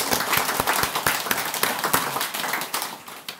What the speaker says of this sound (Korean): 일단 박수 한번 치시고